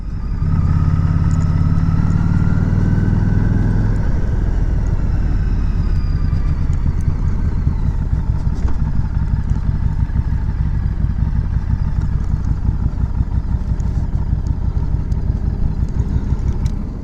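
A 2018 Harley Davidson Street 500, liquid cooled, rides along with a steady throbbing engine note and a constant low rumble. It is close and loud, with a deeper drone at the start.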